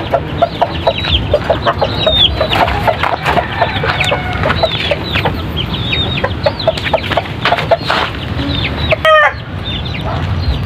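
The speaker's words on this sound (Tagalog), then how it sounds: "5 mga Chinese chicken ito" A flock of Chinese chickens clucks and cackles continuously nearby, with rapid overlapping calls and a faint crow over a steady background hum.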